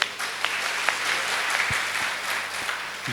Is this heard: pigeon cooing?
no